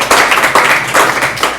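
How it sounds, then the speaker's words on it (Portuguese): Applause breaks out in a church congregation, a lively burst of hand clapping filling the room for under two seconds, dense and fairly loud with uneven swells. "Uma salva de palmas para isso que Jesus disse."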